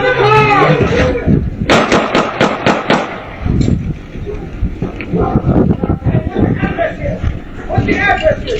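A rapid burst of several sharp, loud shots rings out during a Los Angeles sheriff's officer-involved shooting at a vehicle, mixed with urgent shouting voices before and after.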